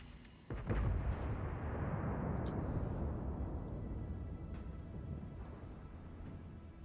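A single heavy naval gun salvo from a warship in World of Warships booms out at the start, followed by a long rumbling, rolling echo that slowly fades over several seconds, with no voices.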